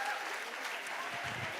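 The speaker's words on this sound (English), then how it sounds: "Can we have a thunderous round of applause?" A large crowd at a live school or college event, Shubharambh 2024-2025, claps in a dense, continuous roar that sounds distant and faint, with low voices briefly rising underneath toward the end.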